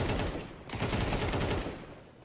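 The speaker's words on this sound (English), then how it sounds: "MP9, once again, just shredding point blank" An MP9 submachine gun firing at point blank in a video game, a dense, loud, rapid burst of shots, a very brief pause, then another sustained spray that fades toward the end.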